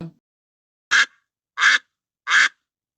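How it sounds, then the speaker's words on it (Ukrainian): Three loud, nasal duck quacks spaced evenly about half a second apart, close by, with silence between them. "Сім'я качок. Тато качур, мама качка та дитинчата каченята."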